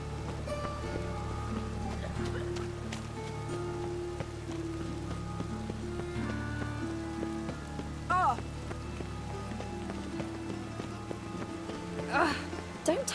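Steady rain patters across a city street in The Witcher 3, a soft hiss under muffled voices talking, with a few hoof clops and brief splashy bursts near the end.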